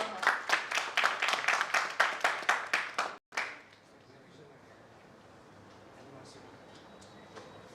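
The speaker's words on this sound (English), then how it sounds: "So please give a big round of applause for her." Applause at an international conference for a business plan presenter: a run of about a dozen sharp, rhythmic claps close by, stopping abruptly after three seconds, followed by quiet room tone with faint distant movement.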